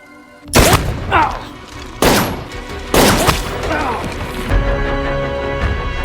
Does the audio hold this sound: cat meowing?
no